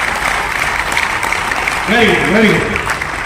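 An audience in a large meeting hall claps in a steady burst of applause while someone speaks over it.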